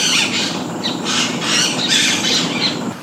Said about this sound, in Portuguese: Em meio ao rio, o canto dos pássaros e o barulho das águas preenchem o silêncio.